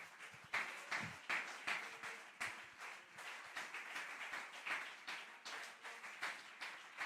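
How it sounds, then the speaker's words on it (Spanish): Church congregation clapping in praise during a Spanish-language sermon, a fairly quiet, sustained round of many hands with individual claps popping out, rising and falling. "Dele ese aplauso al Señor."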